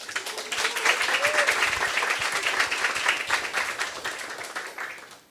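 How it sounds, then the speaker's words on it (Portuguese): Steady audience applause welcoming a guest speaker at a Brazilian talk on Indigenous women, a full, close ovation of many hands that continues throughout and tapers at the end. "Uma salva de palmas."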